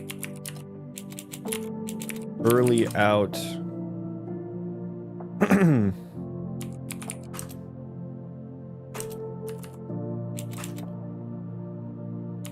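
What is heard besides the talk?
typing on a computer keyboard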